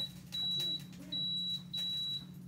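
The control panel of a Power XL grill gives three high electronic beeps as its buttons are pressed, each roughly half a second long and evenly spaced, over a low background hum.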